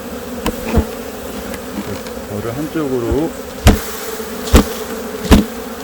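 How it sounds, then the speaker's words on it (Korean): Honeybees buzz steadily at a beehive during a colony move, a continuous close hum broken by several sharp knocks and taps, with a brief spoken phrase over it. "벌이 이렇게 있죠 벌통에"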